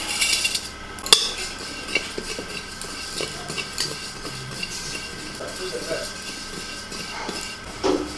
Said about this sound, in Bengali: এবার আমি শুকনো কড়াই জিরাগুলো ভেজে নিচ্ছি।